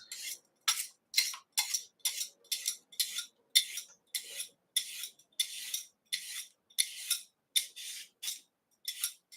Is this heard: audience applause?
no